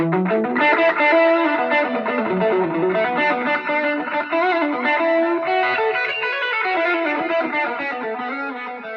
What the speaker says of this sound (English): There's no reverb on that, by the way. That's literally just... all that is delay.